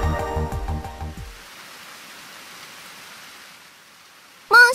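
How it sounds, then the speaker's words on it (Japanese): Steady rain pours down on the way home from shopping, a soft even hiss that takes over once a strain of music fades, with a short voice breaking in at the very end. "どうしてそんなに雨なのか"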